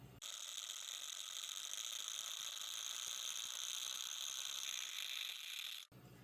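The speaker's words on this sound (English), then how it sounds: "we're going to keep reeling this until we get to about 1/16 of an inch from the top of the spool" A baitcasting reel winds braided fishing line onto its spool in a steady, continuous whirring ratchet-like buzz, close and loud, running unbroken for several seconds before stopping abruptly.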